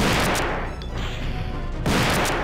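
Two heavy bursts of gunfire in the video game Resident Evil 2, one at the start and one near the end, with a dense rumbling wash of noise in between.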